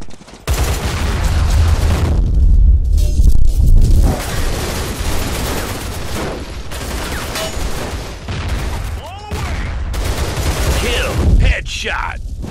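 A grenade and gunfire in the Line of Sight video game, with loud continuous battle noise, rapid shots and booming blasts, and game announcer voices over the top.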